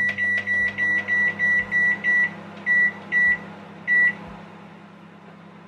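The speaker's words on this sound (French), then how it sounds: "Évidemment on va choisir le micro-ondes parce que j'ai vraiment trop la flemme de le faire à la poêle." A microwave oven heats a frozen Picard dish with a steady close hum. A run of evenly spaced beeps plays over it, then the hum continues alone.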